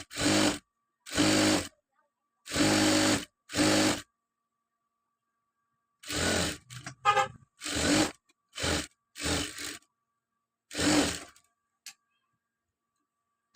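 A sewing machine stitches a chudidar seam in several short bursts of rapid whirring, each lasting about a second, separated by pauses, close and clear with no talk over it.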